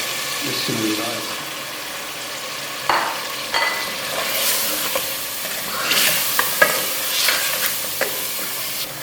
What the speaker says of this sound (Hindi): गोश्त हमारा भून गया है। अब इसमें मैं ये सब मसाले डाल रहा हूँ।